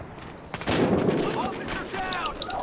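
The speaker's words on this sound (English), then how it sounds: "We're under heavy fire!" Heavy gunfire in the video game Battlefield Hardline, a dense sustained burst of shots and explosions that swells loud after a quiet start and rolls on under some voices.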